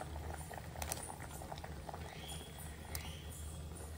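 Cut raw mango pieces boiling in a cooking pot, a continuous low bubbling and popping simmer with small irregular blips, soft and steady without voices.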